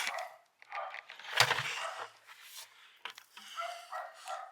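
A dog called Mr. Mouthy barks indoors, eager to get out, giving a few sharp, close barks and yips between short pauses.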